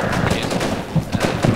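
Automatic gunfire in the Project Reality Vietnam combat game: a dense, sustained clatter of rapid shots with a few heavier bursts standing out, loud and continuous throughout the short stretch.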